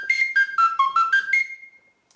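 A small Sicilian friscaletto folk whistle pitched in C, bright and piercing. It plays a quick run of separate notes stepping downward, then climbs to a final sustained tone that fades out, solo and close.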